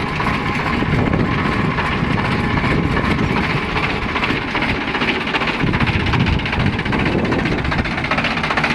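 A Sonalika DI 740 tractor engine runs steadily at idle, a loud continuous low rumble with a rough knocking texture that persists unbroken throughout, with no voices.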